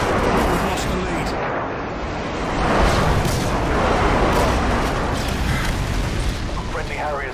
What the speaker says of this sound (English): Friendly airstrike inbound.